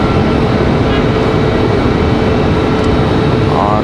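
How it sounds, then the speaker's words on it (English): Republic Airways airliner touching down at Raleigh-Durham International Airport, a loud steady broadband roar of engines and rushing air that holds evenly throughout with no clear break. "There, Republic Airways touching down now"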